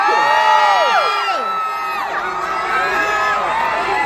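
A large crowd at an Avengers Infinity War event in 2018 at MBS cheers and whoops loudly, with many high shouting voices rising and falling together in a dense, continuous roar of welcome.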